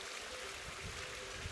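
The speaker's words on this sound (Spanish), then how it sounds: "Esa fuente es donde manaba agua originalmente" Water from a spring fountain flows beneath an off-grid house converted from an old stable, a soft, steady, low trickling murmur that continues without break.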